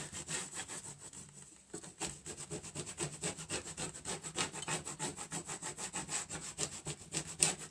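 A Cricut scraper tool is rubbed back and forth over transfer tape on a buffalo plaid gift card holder, making a steady series of close, rhythmic scratchy strokes with a brief pause near the start.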